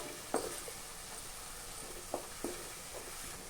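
Onions fry in a pan with chopped green chilies and curry leaves, a steady close sizzle broken by a few sharp scrapes of stirring.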